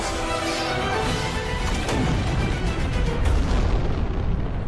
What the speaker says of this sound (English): she drops that sort of atom bomb here to prevent these folks, these invading enemies.